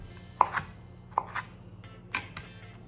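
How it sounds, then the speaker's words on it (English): A knife chops cored paste tomatoes into chunks on a cutting board for a roasted tomato sauce. Three or four distinct, crisp knife strikes are spaced irregularly, close up and alone. "And do the same thing where I just cut it into chunks."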